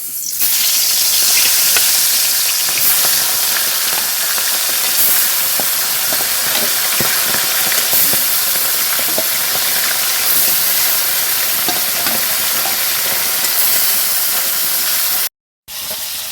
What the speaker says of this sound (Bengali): এখন মাছ ভাজা করব তো তার জন্য তেল দিয়ে দিলাম তো এদিকে আমার তেল গরম হয়ে গেছে আর সব মাছগুলো একেবারেই দিয়ে দেবো